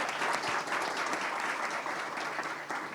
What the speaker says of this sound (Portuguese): eu peço uma salva de palmas aqui para o Raul Ravales, para a Tauana Leles,